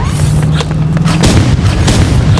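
Gunfire in the video game Rivals, a dense barrage of loud booming shots and bursts packed tightly together, close and heavy with little pause between them.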